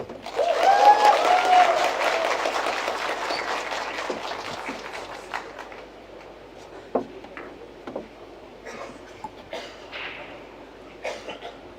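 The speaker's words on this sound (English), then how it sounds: "I always thought that the match was over when you hear a big cheer like that" Crowd in an arena at a women's and men's 10-ball pool world championship in Vietnam, a burst of cheering and applause that swells loud at first and then tapers into scattered claps and murmurs.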